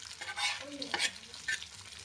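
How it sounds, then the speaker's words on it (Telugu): Fish frying in a pan with only a little oil, heard as a quiet, close sizzle with a few brief scraping strokes. "ఫిష్ ఫ్రై చేస్తా ఇప్పుడు"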